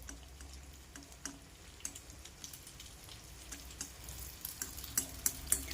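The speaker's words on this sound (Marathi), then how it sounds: "अनारसा यामध्ये टाकायचा आणि तेल साईडने यावरती असं उडून घ्यायचंय" An anarsa, a jaggery sweet topped with poppy seeds, frying in hot oil, a faint bubbling sizzle with scattered light ticks and small spoon clinks that grow a little louder toward the end.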